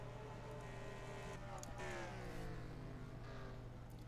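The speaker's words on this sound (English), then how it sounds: "Kyle Kesey lifted early there. You hear him saving fuel, trying to hold on to that race car" A race car engine in a racing video game at Rockingham drones steadily and loudly, its pitch easing slightly midway as the car lifts off to save fuel, under a commentator's voice.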